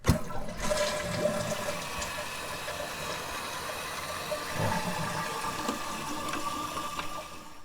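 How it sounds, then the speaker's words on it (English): A toilet flushes in a bowl just cleaned with citric acid, a steady rushing swirl of water that starts abruptly and runs loud and close for several seconds before tapering slightly. "Give this a flush."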